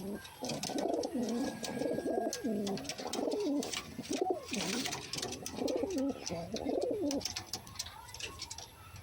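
Pigeons kept by a breeder cooing close by, a run of repeated soft, throaty coos in a steady rolling rhythm, with light background noise.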